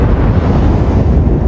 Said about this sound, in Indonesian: sebuah ledakan terjadi di rumah Sabina